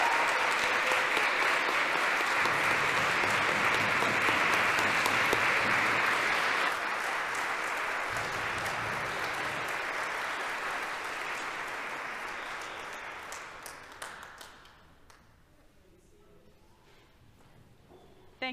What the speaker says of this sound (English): let's give her a standing round of applause